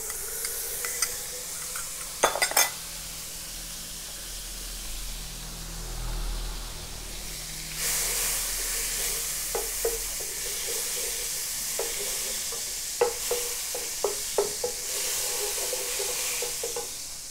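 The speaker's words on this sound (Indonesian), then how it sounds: "Sekarang sudah panas, kita turunkan dulu menteganya." Butter melting in a hot pan for a simple creamy pasta soup, a faint hiss joined by a sudden louder sizzle partway through, with scattered crackles and pops.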